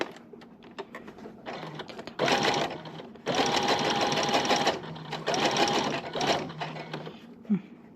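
A sewing machine stitches a hanbok collar in several loud, steady runs of rapid needle clatter, broken by short pauses and softer handling noises.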